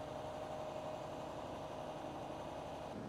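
A tractor engine idles steadily while hitching to a Vervaet Quad 550 slurry tanker, a faint continuous low hum with a constant tonal drone and no voices.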